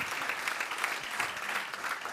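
A seated audience at the Frosinone Chamber of Commerce claps steadily, a dense, even patter of many hands in a hall, moderately loud with no clear voices over it.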